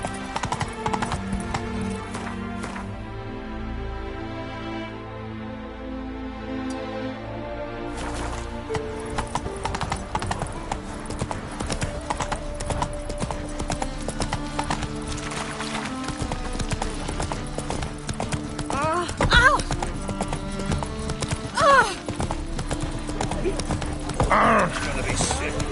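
Geralt's horse Roach from The Witcher 3 gallops in steady, rapid hoof beats with a few whinnies, under game music and voices talking.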